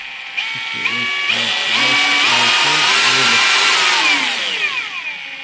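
An Einhell polishing machine whirs loudly, its motor pitch climbing in distinct steps as it moves up through its speed settings, then winding down near the end.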